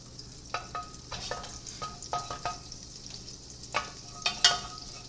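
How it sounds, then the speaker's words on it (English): Mirepoix vegetables for lentil curry soup sizzle and crackle in a hot pan, with scattered sharp clicks and stirring scrapes over a steady low hum; no one speaks. "Good to hear that sizzle."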